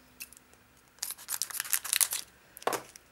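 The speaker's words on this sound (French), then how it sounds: "Je reprends ma paire de ciseaux" Scissors snip open a Pokémon XY11 Explosive Fighter booster pack, a few light clicks followed by a burst of crinkly cutting and foil rustling, close up, with a final sharp snip.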